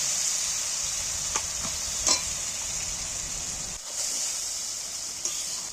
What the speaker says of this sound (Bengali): এইটা আমি একটু ভেজে নিই